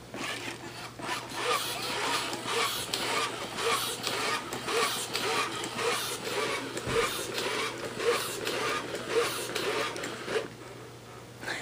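A small programmable toy robot driving along while playing back a stored puppet-mode program, giving a steady close whirring motor hum with rhythmic gear clicks throughout, nobody speaking over it.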